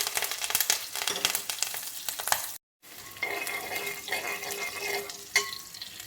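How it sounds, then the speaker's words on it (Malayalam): Shallots and curry leaves frying in hot oil for a Kerala jackfruit dish, a steady close sizzle with crackles that cuts out briefly, then returns a bit softer. "ഞാൻ കുറച്ച് 2-3 ചുവന്ന ഉള്ളി, ചെറിയ ഉള്ളിയും കറിവേപ്പിലയും കൂടി വെച്ചിട്ടുണ്ട്. ഇത് ഇതിനകത്തിട്ട് മൂപ്പിച്ചെടുക്കണം."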